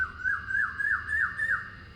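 A bird in Minecraft gives a repeated squawking call, six rising-falling cries in a steady rhythm, loud and close with no talk over it.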